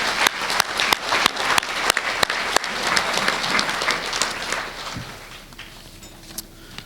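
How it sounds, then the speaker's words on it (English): An audience at a Holstein association awards banquet applauds a scholarship winner, with a few sharp, close claps standing out over the general clapping, which thins and fades toward the end. "We'll give her a round of applause"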